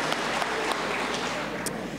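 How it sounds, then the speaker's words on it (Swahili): Church congregation at a Presbyterian parish Sunday service clapping together, a dense continuous wash of applause throughout, fairly loud and even, without voices standing out. "mpigiwe Yesu makofi mazuri"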